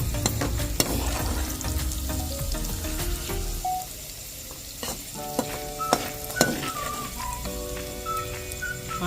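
Pirandai (adamant creeper) sautéing in a pan, a steady soft sizzle with occasional stirring scrapes and light clicks of a spatula against the pan, close and quiet with no talk.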